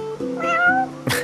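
A cat in the video game Final Fantasy XV gives a single drawn-out meow, clear and close, with a steady tonal hum beneath it and a sharper burst of sound at the very end.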